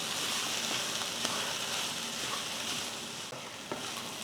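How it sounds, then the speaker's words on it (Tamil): A beetroot and chickpea stir-fry with ground coconut, green chilli and cumin sizzles steadily in a pan while it is stirred, a dense close frying hiss with faint scraping and no voices. "சேர்த்து இதை நல்லா கிளறி வரும்."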